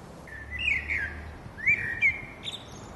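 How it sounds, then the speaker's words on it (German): Birds sing in a spring garden, two bright whistled chirping phrases rising and trilling, moderately close over a quiet background. "Aber auch die Vögel freuen sich am Frühling und singen ihre schönsten Lieder."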